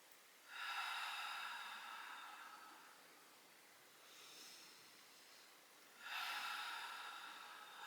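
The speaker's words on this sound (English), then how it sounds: "One or two more deep breaths." Slow, deep yoga pranayama breathing: a long airy inhale, a softer, quieter exhale, then another full inhale. The breaths are close and hushed, with no speech.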